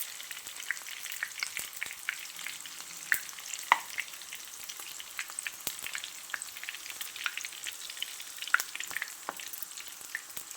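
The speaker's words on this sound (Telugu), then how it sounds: "ఇట్లా నూనెలో ఏగుతాం చూడండి" Bitter gourd pieces frying in hot oil give a steady, fine crackling sizzle with scattered sharp pops, close and alone throughout.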